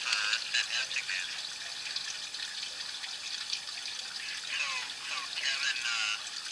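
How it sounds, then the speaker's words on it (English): Water runs through a drain pipe toward the main line, a steady rushing hiss that continues throughout while someone talks over it. "I've got water running right now to see where and how the water's running to the main."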